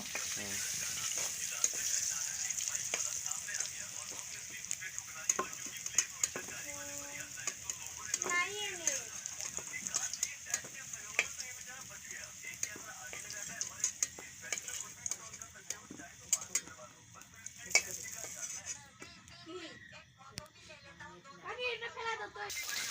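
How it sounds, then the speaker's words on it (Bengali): Potatoes frying in a pan at a small home party, a low continuous sizzle with occasional stirring scrapes and clinks, under people talking nearby. "আলুটাকে ফ্রাই করে নিতেছ।"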